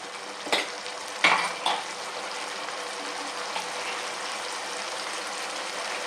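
Vegetable curry with turmeric and a little water is stirred and sautéed in a pan, a steady soft sizzle with a few sharp clinks of a utensil against the pan near the start.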